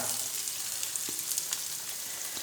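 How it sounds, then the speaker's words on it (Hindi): Finely chopped onion fries in a pan for aloo tikki, a steady close sizzle with occasional crackles and faint stirring touches, no talking. "अब प्याज को भी हल्का सा फ्राई करेंगे"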